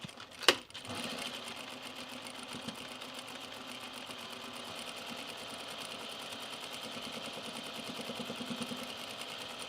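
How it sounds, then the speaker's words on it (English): A domestic sewing machine stitching in the ditch along the binding of a pair of trousers, a steady fast mechanical whir with a sharp click at the start, running continuously and close. "Let me finish my binding. Stitch in the ditch."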